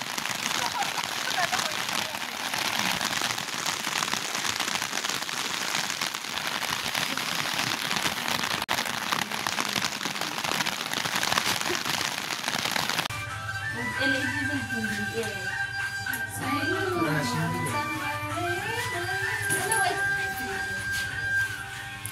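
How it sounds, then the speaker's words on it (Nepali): Steady, dense rain hisses for about half the time, then gives way to people talking over background music, on a crowded trek in Rasuwa, Nepal. "यस्तो बिजोग छ पानी परेर"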